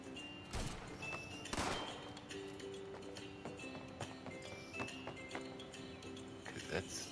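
Gunfire in the video game Fallout 76, heard as a few sharp cracks early and scattered fainter pops over steady ambient noise, with voices talking throughout.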